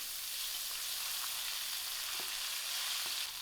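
Ginger and garlic hit a hot curry braise of masoor dhal with curry leaf, giving a steady, fairly loud frying sizzle with a few faint stirring clicks, no voices.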